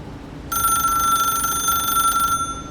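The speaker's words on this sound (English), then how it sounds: "In the station, an officer picked up the phone." A telephone bell rings steadily at a Hong Kong police station in 1982, one continuous bright ring lasting about two seconds before it stops, with no talk.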